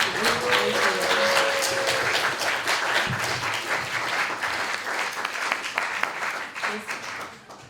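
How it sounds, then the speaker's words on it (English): Students at a campus debate night receive sustained applause from a lively audience, with a brief whistle or cheer early on and a few voices mixed in as the clapping gradually eases. "now for the actual final round of applause for these students"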